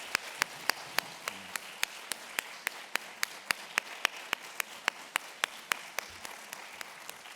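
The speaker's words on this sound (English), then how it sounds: "Can we give one more round of applause?" An audience gives a sustained round of applause, with sharp distinct claps over a softer wash of steady clapping.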